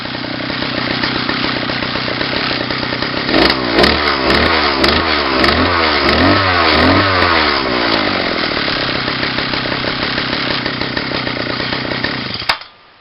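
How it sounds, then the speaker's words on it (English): A small two-stroke RoadBug motorized bicycle engine runs loudly and close, its buzzing note rising and falling through several quick revs before settling into a steady idle. "we went ahead and started the engine just to make sure everything is rotating properly"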